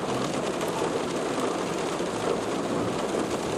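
Heavy rain pours down in Doha, Qatar, a dense, steady broadband hiss that stays loud and unbroken throughout, with no voices over it.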